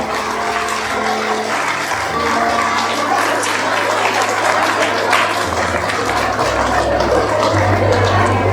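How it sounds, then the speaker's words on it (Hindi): Applause welcoming two bishops at the blessing and inauguration of a newly built church, dense continuous clapping from a crowd with a low steady hum underneath throughout. "तालियों से स्वागत करेंगे दोनों बिशपों को।"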